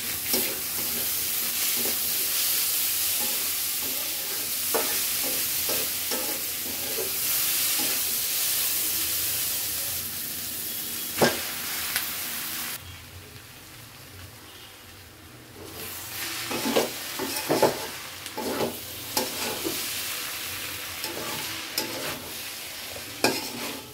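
Onion petals and tomato stir-fried over a high flame in a pan for chicken chowmein, loud hissing sizzle with rapid rhythmic spatula scrapes and knocks, briefly dropping quieter midway before vigorous stirring resumes, no talking.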